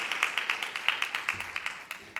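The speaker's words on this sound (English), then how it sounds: "Please, another round of applause for the Prime Minister and Mr." Audience applause for the Prime Minister at the STC 2024 morning session, a steady patter of many hands clapping at moderate distance, with faint talk underneath.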